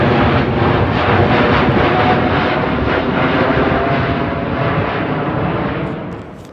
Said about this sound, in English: I realized that's one thing I've kind of kicked is the airplane noise.